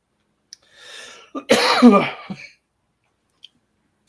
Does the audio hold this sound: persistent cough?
yes